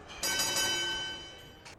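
A ring bell struck to start a wrestling match in the video game WWE 2K25 gives a bright metallic clang with a long ringing decay, followed by a softer second strike near the end.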